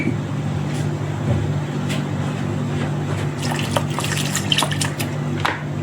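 Salt water poured over sliced cabbage in a bowl to soak for a salad, a steady splashing, trickling flow close by, with clicks and drips toward the end over a constant background hum.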